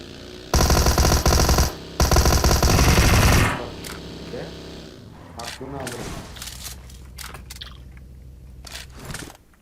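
Two long bursts of rapid, loud automatic gunfire in PUBG Mobile, followed by scattered sharp shots and clicks in a quieter stretch.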